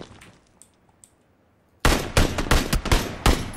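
Gunfire in PUBG Battlegrounds: a near-quiet stretch gives way to a loud run of sharp, close shots in quick bursts, about half a dozen cracks that keep going to the end.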